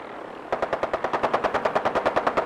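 Rapid machine gun fire from a vertibird aircraft in the video game Fallout 4, a steady stream of evenly spaced loud shots starting abruptly and continuing without pause, no speech.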